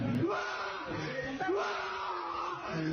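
A man screams and yells at length inside a pizzeria, loud and hoarse with rising and falling pitch, heard as played-back footage with some crowd noise around it.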